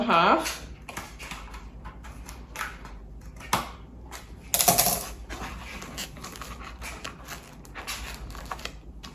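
Scissors or a blade snip a short slit into cardboard for a homemade headless Halloween costume, giving a series of crisp, scratchy cuts and rustles close to the microphone, with some talk mixed in.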